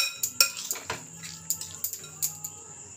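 Spoon stirring black pepper powder into raw chicken pieces in a bowl for a spicy lemon chicken fry, giving a series of close, light metallic clinks and scrapes in an irregular rhythm, with no talk.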